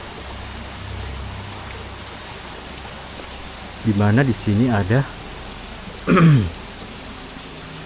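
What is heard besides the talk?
rain falling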